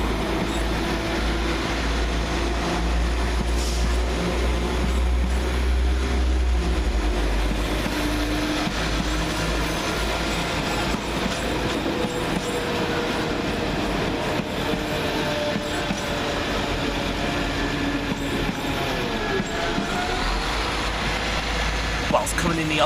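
West Midlands Railway Class 172 diesel units 172340 and 172346 roll through Stourbridge Junction station, a loud sustained rumble with a low engine drone and rail hiss throughout, voices faintly audible in the background.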